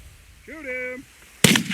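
A single sharp shotgun blast rings out near the end during an early-season goose hunt in Minnesota, loud and close, following a brief goose-call honk in an otherwise quiet field.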